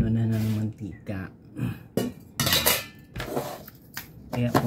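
A stainless steel oil pot and its lid clink and clatter sharply while being handled, with metallic knocks between a woman's speech that runs throughout.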